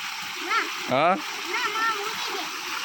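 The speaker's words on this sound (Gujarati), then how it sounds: "અહીંયા માથે પાણી પડે." Water splashing onto a young boy bathing in a small farm water tank, brief splashes under a steady running-water background, with a voice and adult speech.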